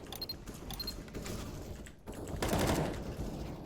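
Rapid gunfire from rifles and pistols in the video game CS:GO, a dense burst of repeated shots with metallic clicks, loud and close, continuing without pause and with no talking.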